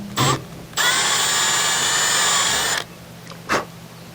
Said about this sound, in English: we need to drill out the cap. Drill that out so water can get through there.